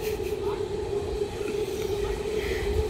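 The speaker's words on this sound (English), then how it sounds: "There's the train again." A small train passing through a town, heard as a steady rumbling drone with a sustained tonal hum that holds at a moderate distance, a continuous wash of rail noise with no clear beginning or end.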